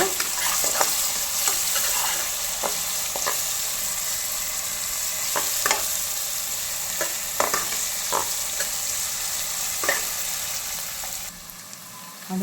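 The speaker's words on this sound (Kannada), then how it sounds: "ಸ್ವಲ್ಪ ಗೋಡಂಬಿ ಅದನ್ನು ಚೆನ್ನಾಗಿ ಫ್ರೈ ಮಾಡ್ಕೊಳ್ಳೋಣ" Cashews fry in ghee in a pan with a teaspoon of garlic paste for ghee rice, giving a steady, dense sizzle with scattered stirring scrapes and clicks throughout, no voices.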